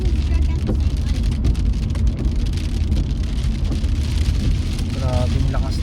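Heavy rain pours steadily on surfaces in downtown Calgary, a dense, loud wash of drumming drops that never lets up, with faint voices talking underneath.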